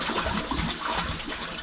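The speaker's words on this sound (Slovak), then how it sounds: "Po otvorení týchto troch ventilov nastane taká malá kaskáda do oxickej časti" Water cascading through opened valves into the oxic section of a wastewater treatment plant: a steady, dense rush of splashing and trickling, continuous and fairly loud, with no voices.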